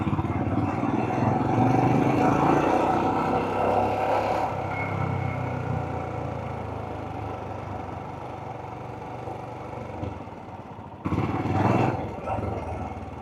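A motorcycle rides through evening traffic in Bulgaria, its mid-pitched engine droning steadily and close, with passing road noise and a louder surge near the end.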